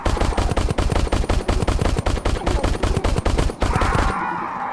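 Rapid burst-fire gunshots from a weapon in the VR shooter Crashland VR: dense, evenly spaced loud reports for about four seconds, then stopping abruptly into a fading tail.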